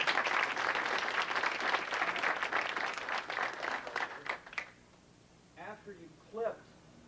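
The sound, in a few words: audience applause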